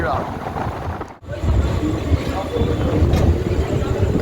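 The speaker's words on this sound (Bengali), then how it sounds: "তো আমাদের ট্রেন ঢুকে গেছে উত্তরপাড়া প্ল্যাটফর্মেতে।" A local train pulls into Uttarpara station platform in Bengal, its carriages giving a loud, steady rumble with clattering. A short dip breaks the noise before the rumble resumes and continues to the end.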